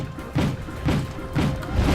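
Cluster bombs going off in the Wargame: AirLand Battle battlefield, a run of heavy crashing blasts landing in a steady rhythm, about four thumping impacts over two seconds, loud and close with no talking.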